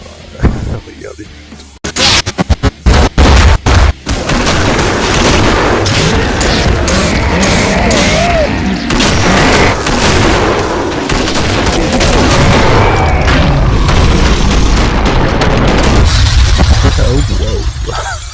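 Gunfire from the Killing Floor video game: heavy booming shots and rapid bursts, loud and dense, that run almost without a break under a voice, with a brief choppy stretch near the start.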